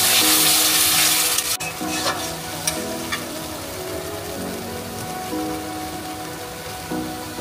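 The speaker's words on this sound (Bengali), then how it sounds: "আবার হালকা একটু নাড়িয়ে নেব।" Yogurt stirred into frying masala for doi katla fish, a steady bright sizzle with soft scraping of a spoon in the pan, close and continuous with a sharper clatter near the start, no talk.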